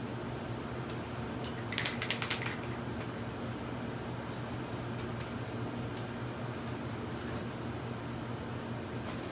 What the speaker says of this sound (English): put a little spray adhesive on there